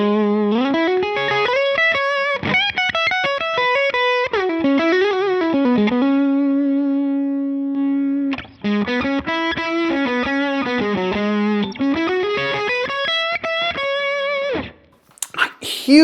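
Distorted electric guitar through a Line 6 Helix amp model with the bias set to 10 plays a fast riff of picked notes with bends and sustained tones, briefly pausing near the end.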